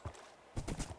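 Horse hooves clip-clop in the Minecraft video game, a few soft, quick hoof steps, faint and distant, with a short gap before a brisker cluster of steps.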